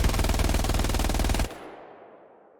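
A sustained burst of rapid, evenly spaced Browning machine gun fire in Hell Let Loose, loud and continuous before cutting off abruptly into a fading echo tail.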